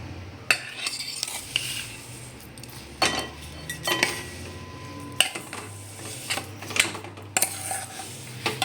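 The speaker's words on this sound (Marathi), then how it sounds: "असं सगळीकडनं छान हलवून घ्यायचं" A utensil scrapes and clinks around a metal kadhai with two spoons of ghee in irregular strokes, with a faint sizzle underneath and no voices.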